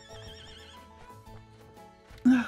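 A horse whinnies in the ranch game The Ranch of Rivershine, a loud, brief neigh bursting in at the end over soft background game music.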